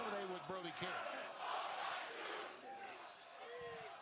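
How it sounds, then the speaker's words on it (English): An AEW Dynamite wrestling crowd roars and chants in a large arena, a steady wash of many voices with rising shouts and a few louder cries near the front, lasting throughout. "this crowd is goated. Half of them is saying, fuck Don Callis."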